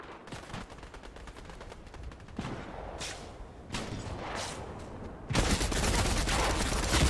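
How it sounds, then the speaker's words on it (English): Heavy gunfire in a video game, dense rattling bursts of automatic fire that run almost without a break, building to a louder sustained volley near the end. "we took some heavy fire there"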